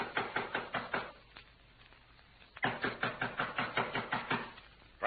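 Knuckles rap on a door in an old radio drama, two bursts of about half a dozen firm, evenly spaced knocks separated by a short pause, close and dry with no talking.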